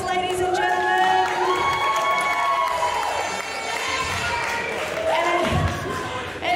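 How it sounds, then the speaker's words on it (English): An audience cheers and applauds a strongwoman competitor at a Proraw Circus Freaks strength event in 2022. The crowd noise is steady and fairly loud, and an announcer's amplified voice talks over it throughout. "Let's keep that applause going for Mariko White, ladies and gentlemen"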